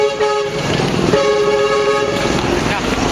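A bus horn blares steadily on a busy street in Honghe, China, loud and close, held as a sustained tone over traffic rumble, with someone talking under it.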